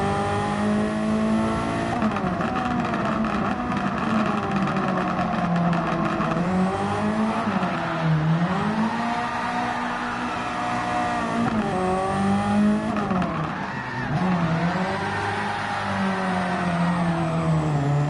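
A race car in Gran Turismo 7 roars continuously through corners, its engine pitch rising and falling as it revs, bogs and accelerates, with faint tire squeal, loud and steady throughout.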